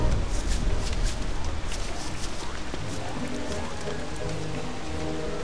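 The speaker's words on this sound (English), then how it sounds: "Oh god, it's raining again!" Rain falls steadily in the video game Don't Starve, a dense continuous patter with crisp drop ticks throughout, fairly loud and with no talk over it.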